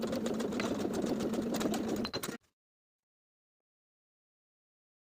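A sewing machine stitches in the ditch along a skirt waistband to secure the elastic, running as a steady rapid whirring hum for about two seconds before stopping abruptly into silence.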